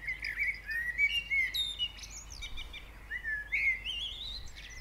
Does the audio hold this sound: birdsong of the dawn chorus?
yes